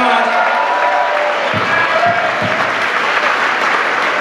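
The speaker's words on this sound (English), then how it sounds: "How about a big round of applause?" An audience at a high school hall of fame and senior athletic awards banquet applauds student athletes, dense clapping held steady and fairly loud throughout, with a few sharper claps standing out.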